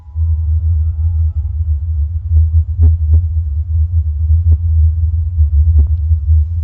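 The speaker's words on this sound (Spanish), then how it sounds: "Ahí tenemos el sonido de Taos de nuevo." A steady low droning hum of the Taos hum, with a throbbing rumble underneath, continuous throughout, with a few faint clicks over it.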